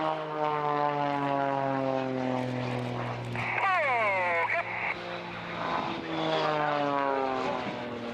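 Propeller aerobatic display aircraft maneuvering at the Royal International Air Tattoo airshow, a loud sustained engine drone with rising and falling pitch sweeps as the planes turn, heard close and steady throughout.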